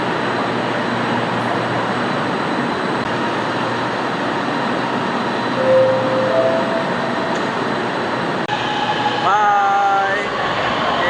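A short two-car LRT light rail train on the Kelana Jaya line pulls away from the station, a steady rumble and hum under station noise, with a rising whine near the end as it departs; someone speaks over it.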